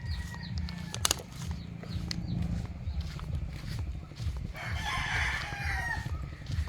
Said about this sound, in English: And you got a lot of chickens on this walk. Roosters.